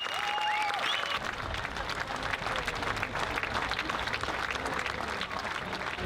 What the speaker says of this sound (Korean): 마지막 팀이 공연을 마치자 박수갈채가 쏟아진다.